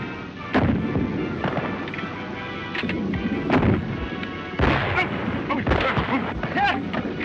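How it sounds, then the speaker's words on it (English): Gunfire from a 1931 western movie, repeated shots ringing out over a busy, noisy soundtrack with dense background rumble and what seems like voices mixed in. "You're shooting like a cross-eyed squall."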